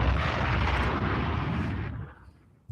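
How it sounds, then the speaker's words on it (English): An explosion sound effect played during a livestream: a loud, rumbling broadband blast that holds for about two seconds, then fades out quickly. "Yes, I heard that explosion."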